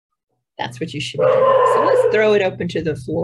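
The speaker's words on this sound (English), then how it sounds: "You can probably hear the dog right now" A dog barks and yips several times, fairly close and loud, mostly under a man's lecture-style speech to a group.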